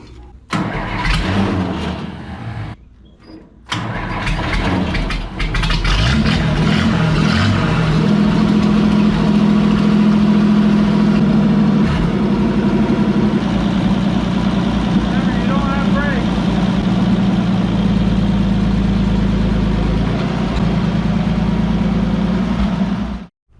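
A 1954 International truck that sat for 30 years cranks over with a few sputtering attempts. It then catches and settles into a steady, loud idle close by, with people talking in the background.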